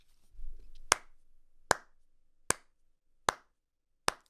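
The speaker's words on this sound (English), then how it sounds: "Why am I slow clapping?" Slow hand clapping, five sharp claps spaced roughly evenly about 0.8 seconds apart, close and fairly loud against a quiet background with a brief low rumble before the first clap.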